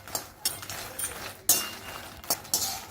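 Dry makhana (fox nuts) roasting in a pan with no oil, giving light clinks and rattles as the puffs shift and knock against the metal, with a few sharper clatters standing out.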